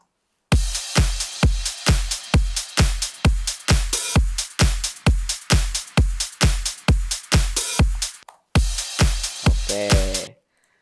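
A full drum track from a beat-production session plays back alone: loud, evenly spaced punchy kick-and-hit pattern in a steady driving rhythm, with a brief gap near the end before a closing fill.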